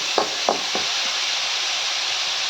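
Potato paratha filling frying in a pan, a steady sizzling hiss with a few soft stirring scrapes near the start.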